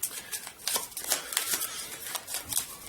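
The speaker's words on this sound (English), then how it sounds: "We'll give each other our decks and shuffle them." Decks of cards for a board game are shuffled close by, with quick riffling and tapping bursts in an uneven rhythm and no talking.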